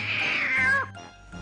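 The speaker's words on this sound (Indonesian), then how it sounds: "Suara kucing kan?" A single clear cat meow, rising then falling in pitch, followed by quiet background noise.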